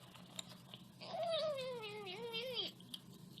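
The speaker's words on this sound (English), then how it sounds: "Feisty one, huh? Feisty cat." A cat gives one drawn-out, wavering meow lasting about a second and a half, close and clear over a quiet room background with faint tapping noises.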